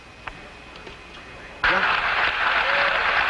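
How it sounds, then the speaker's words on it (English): Loud, dense applause breaks out abruptly in NASA Mission Control at the Apollo 13 splashdown, following quiet radio-like background with a few clicks, and continuing strongly with a voice faintly underneath. "An extremely loud applause here in Mission Control"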